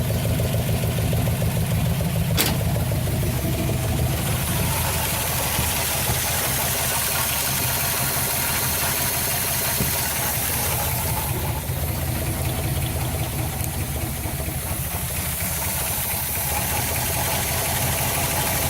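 Engine of a Pontiac Firebird barn find running after its first start in over twenty years, a loud steady idle with rough knocking vibration throughout, a sharp click near the start, no voices.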